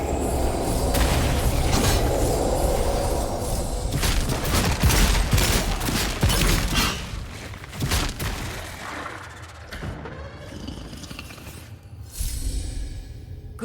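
Bursts of gunfire and booming blasts in the fantasy game Avowed, loud and clustered early, then thinning into scattered shots and softer effects toward the end.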